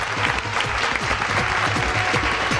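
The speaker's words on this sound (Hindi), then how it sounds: "एक बार जोरदार ताली।" Audience applause at a Holi special kavi sammelan, continuous thick clapping running nearly three seconds with steady energy, close and loud, with a faint low murmur beneath.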